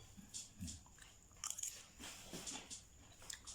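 Crunchy bites and chewing of crispy stir-fried snow peas with pork belly, several close crisp crunches spaced unevenly, with no talk.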